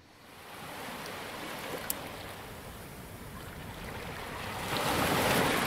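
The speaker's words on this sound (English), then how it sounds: "I'm on the beach. Don't you think the sea is mysterious?" Sea waves wash onto a beach in the video game Yuppie Psycho, a steady, wide roar of surf and wind that swells louder toward the end, with no speech.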